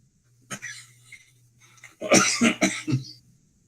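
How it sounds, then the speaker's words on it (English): A short cough followed by a harsher burst of several rough coughs in quick succession, close and fairly loud, with a low hum underneath. "I got a little cough."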